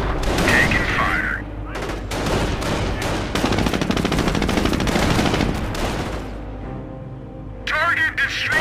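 Machine gun fire in the World War II strategy game Company of Heroes rattles in dense, loud, sustained bursts with explosions mixed in, and voices talk over the gunfire.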